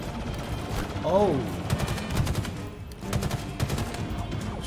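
Bulldog shotgun blasts in a Halo campaign firefight on Legendary, several sharp shots scattered through dense battle noise with alien voices and a brief voice in the mix.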